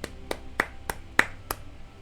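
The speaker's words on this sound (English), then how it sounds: "claps for Motoi Sakuraba and Goshina." Six sharp hand claps at a steady, slightly uneven pace, close and crisp with short decays, heard alone over a faint background hum.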